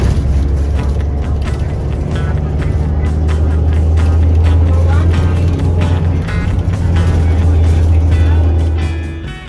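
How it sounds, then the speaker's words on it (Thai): Small minibus on the climb up to The Peak in Hong Kong, heard from inside as a loud, steady engine drone and road rumble with scattered rattles, fading slightly at the end. "ครับรถเมล์ที่เราขึ้นมาเมื่อสักครู่นะครับ เป็นรถเมล์เล็กนะครับ"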